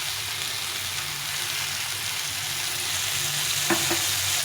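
Tomatoes sliced into long strips sizzle in mustard oil in a pan, a continuous loud frying hiss with stirring scrapes and a couple of light taps near the end.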